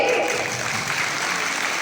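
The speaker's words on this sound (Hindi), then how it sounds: "तिरंगे के सम्मान में जोरदार तालियां बजा दीजिए" A school audience applauding at a Republic Day programme, dense steady clapping filling the whole moment at close to mid distance with no break.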